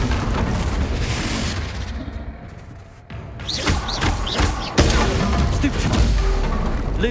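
A Confringo spell blasts in Hogwarts Legacy, a heavy booming burst followed by crackling debris and further thumps amid the din of a magical duel.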